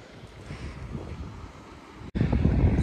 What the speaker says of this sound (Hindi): तेज़ हवा चल पड़ी थी